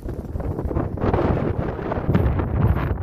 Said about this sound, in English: It's really windy here, so I'm going to try to speak so you can hear me over the wind.